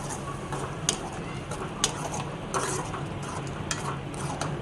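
A spoon scrapes and clinks against a pan while stirring ground tomato puree into onions, with soft irregular taps over a low background hum.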